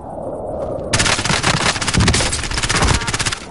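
Warzone video game gunfire: a loud, rapid burst of automatic shots that starts suddenly after a quieter moment and keeps going without a break.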